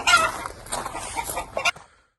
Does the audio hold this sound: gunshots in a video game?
no